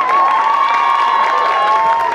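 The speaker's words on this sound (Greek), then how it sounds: "Πάμε ένα δυνατό χειροκρότημα." A large festival crowd at the River Party in Greece claps and cheers loudly during a welcome speech, a dense unbroken roar of applause and shouting with a sustained whistle-like tone running through it for the whole stretch.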